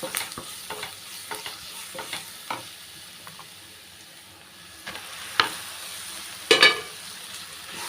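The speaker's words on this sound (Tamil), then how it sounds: "நல்லா வதக்கிட்டு அந்த சோயாவை சேர்த்துக்கலாம்" Soya chunks stirred into a frying curry masala of onion, tomato and spices in a pan, with a soft continuous sizzle and intermittent spoon scrapes and knocks, a few sharper clanks near the end.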